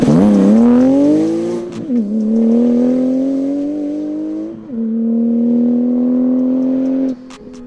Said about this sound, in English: driving it at slow speeds onto a trailer using wooden planks is a recipe for